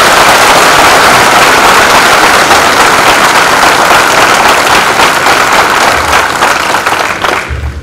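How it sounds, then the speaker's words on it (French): A large graduation ceremony audience applauding themselves, loud, dense clapping that holds steady for several seconds before tapering off at the end. "je vous demande de vous applaudir vous-même."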